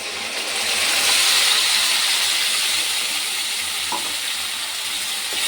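A paste of ground tomato, onion, garlic and ginger fries in a hot pan with a loud, continuous close sizzle, broken by a couple of light spatula knocks near the end.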